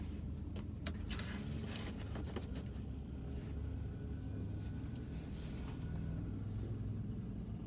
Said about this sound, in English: I guess they got parking lot cleaning going on.